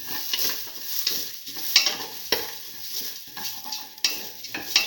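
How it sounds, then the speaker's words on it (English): Salt is being mixed into a cucumber and black lentil stew, heard as repeated close stirring, with a spoon scraping and clinking against the pot over a soft sizzling background and no talking. "Salt and mix that in."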